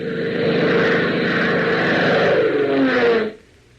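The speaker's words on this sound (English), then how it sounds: "A mixed squadron of private planes, Piper Cubs, Aronkas, and PT-19 trainers, all led by Hop and Tank in their Beechcraft" A propeller aircraft drones past as a radio drama sound effect, a loud, steady engine roar with a slight pitch sweep, evoking a squadron of light planes such as Piper Cubs and PT-19 trainers, cutting off abruptly near the end.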